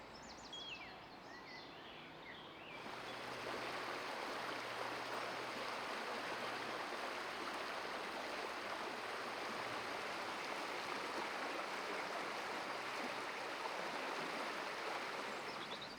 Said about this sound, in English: It's the same river, just a little further along, flowing through the middle of the park.